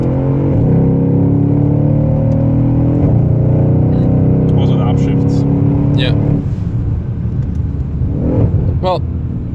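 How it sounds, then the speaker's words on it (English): A 720-horsepower Renntech-tuned Mercedes-Benz S63 AMG Coupe engine revs and settles at close range, with sharp crackling pops on the downshifts near the end, while people talk over the steady engine drone. "have the downshifts a little more, you know, have more popping"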